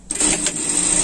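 A sewing machine runs a safety seam on a fabric sling pet bag, a fast, loud, continuous whirring stitch right up close that starts abruptly and keeps going.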